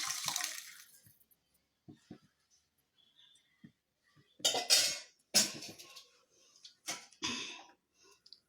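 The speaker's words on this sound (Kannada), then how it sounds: "ಇದಕ್ಕೆ ನೀರನ್ನು ಹಾಕೋಣ." Water splashes into a cooking pot for lemon rasam in several short, separate bursts, close by and fairly quiet, with brief pauses between pours.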